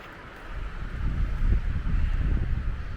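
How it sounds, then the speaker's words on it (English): Wind during a windstorm on a flat stretch of trail, a steady low rumbling roar and buffeting against the microphone that builds after the first half second and stays strong. "We're gonna get wind no matter what, because it's a windstorm"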